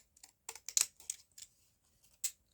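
Scissors snip around a small paper image, a quiet series of short irregular cuts close by with no voices.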